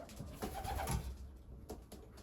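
Racing pigeons in a loft give soft, repeated cooing calls, a few brief low coos rising and falling close by over a steady background hum, with no one speaking.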